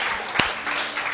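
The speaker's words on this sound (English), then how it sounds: "let's give the Lord a hand clap" A church congregation gives a dense, steady round of hand clapping at moderate loudness, with one sharper clap standing out near the middle.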